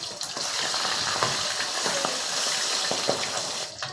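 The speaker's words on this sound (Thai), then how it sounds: "พอปลาทูเริ่มเช็ดตัวนะครับทอดมาได้สักพักนะครับ" Steady crackling sizzle of mackerel frying in hot oil, close and constant, with occasional louder pops and spatters.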